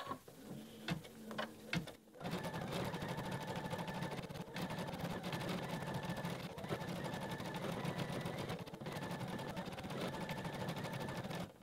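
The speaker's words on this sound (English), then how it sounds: "the design and the machine are ready to move on to the last step, which is just to embroider the actual letter" An embroidery machine stitches out a letter appliqué, its needle running in a fast, steady mechanical chatter for most of the stretch after a few short starting pulses, close and continuous with no talk.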